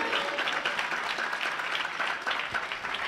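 A church congregation bursts into loud, sustained applause during a Hindi-language Christian sermon, with dense clapping that holds steady for the whole stretch and no voices standing out.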